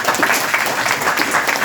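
An audience at a closing ceremony for a digital inclusion training in Ndiaganiao claps for volunteers, a brief burst of dense, steady applause from a gathered crowd.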